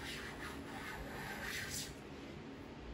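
Steady close rasping and scraping as epoxy is scraped off a cedar live edge slab for a mantel, a continuous gritty rubbing texture with small surges, no talk.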